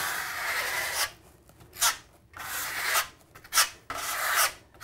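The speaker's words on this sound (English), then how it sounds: "So it's putting it on a low angle, scraping it off at a high angle." A steel trowel scraping Venetian plaster off a wall at a high angle, giving loud rasping strokes that come in repeated bursts with short gaps between them, up close and with no talking.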